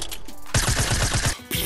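Quick burst of suppressed gunfire from a silenced weapon in a video game, a rapid series of about eight muffled, evenly spaced shots lasting under a second, loud and close over a steady game background.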